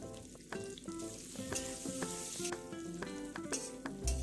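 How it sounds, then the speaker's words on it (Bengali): Green banana pieces with salt and turmeric frying in oil in a kadai seasoned with black cumin, a steady close sizzle with crackling bursts and a few stirring knocks throughout, no talk. "এবারে কলাগুলোকে ভালো করে নুন আর হলুদ দিয়ে একটু ভেজে নেব"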